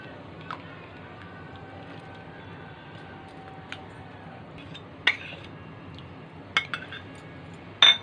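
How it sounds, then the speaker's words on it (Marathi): Chopped jaggery is stirred into half a litre of cow's colostrum milk in a pot. A spoon gives soft scraping and a few sharp clinks against the metal, close by, over a quiet kitchen background. "त्याच्यामध्ये गूळ टाकायचा आणि हे हलवून घ्यायचं।"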